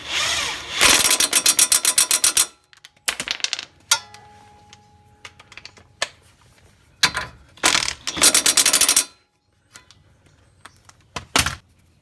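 Hand ratchet tightening a nut on the front end of a Ford Escape, with rapid clicking bursts separated by pauses and small metallic knocks, close and fairly loud.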